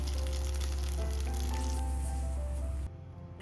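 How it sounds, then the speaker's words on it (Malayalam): Mustard seeds, peanuts, dried chillies and curry leaves sizzle and crackle in hot oil in a pan, a close, steady frying hiss that cuts off abruptly near the end. "ചൂടായി വന്ന പാനിലേക്ക് അല്പം ഓയിൽ ഒഴിച്ച് കുറച്ച് കടുകും ഹെൽത്തി ഫാറ്റ്സിന് വേണ്ടി കുറച്ച് പീനട്ട്സും 2 ഡ്രൈഡ് ചില്ലിയും കുറച്ച് കറി ലീവ്സും കൂടെ ചൂടാക്കിയെടുക്കാം"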